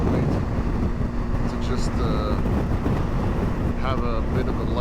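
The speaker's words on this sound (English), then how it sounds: "It's just so windy. I'm getting absolutely pummeled." Strong wind pummels a rider on a BMW R1250 GS Adventure touring in eastern Québec, a loud continuous roar of buffeting over the microphone with engine drone beneath and faint voice fragments.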